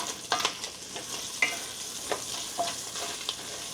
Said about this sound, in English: Basically going to render all of this bacon fat and crisp it up in the pan